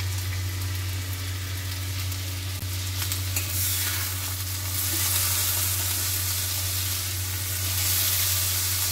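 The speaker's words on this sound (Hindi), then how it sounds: "तड़के में डाली हूँ जीरा और उसके साथ प्याज, हल्का सा भून रही हूँ" Cumin seeds and onion sizzle in hot oil for a tempering, a loud, dense, continuous crackling fry close to the pan that swells slightly toward the end, with a low steady hum underneath.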